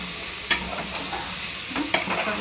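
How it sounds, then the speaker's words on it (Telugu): Something fries in a pan before dal is added, a steady sizzle with two sharp clanks of a spoon against the pan. "కొంచెం ఫ్రై అయినాక పప్పు వేసి"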